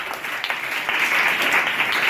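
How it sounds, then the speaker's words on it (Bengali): Children at an orphanage drawing competition and birthday celebration clap for the winner, a steady burst of applause that swells slightly louder toward the end. "হাততালি দাও"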